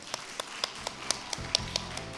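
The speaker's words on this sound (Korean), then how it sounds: "뜨거운 박수 부탁드립니다." Applause at a youth farming and rural startup expo talk, a handful of sharp separate claps spaced irregularly, fairly close and sparse rather than a full ovation.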